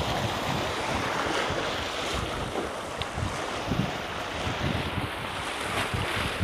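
Ocean waves break and wash continuously along a Jakarta shoreline with scattered rocks, a steady broadband roar with wind buffeting the microphone throughout and no talking.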